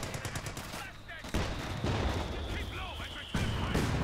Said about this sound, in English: look at these modified M6 mines as the mortar detonates them